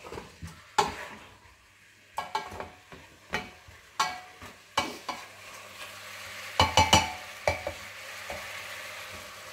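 Chicken pieces fry in a pan while being stirred for a chicken vermicelli dish, with irregular scraping utensil strikes and clacks over a soft sizzle, the bursts coming every second or so and close to the listener.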